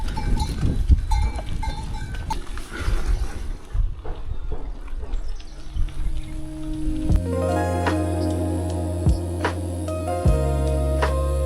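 A herd of goats and cows on a rural road in China, with clanking cowbells and animal calls mixed with gusty wind noise on the microphone, followed by sustained ringing bell tones.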